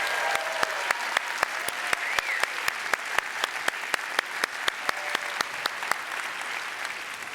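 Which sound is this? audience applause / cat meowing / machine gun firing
audience applause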